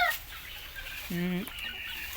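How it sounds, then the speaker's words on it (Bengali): A single drawn-out cluck rises from a hen among some 300 chickens kept in a partitioned poultry shed, standing clear above a low, steady background hum. "ওইদিকে আমার 300 মুরগি আছে"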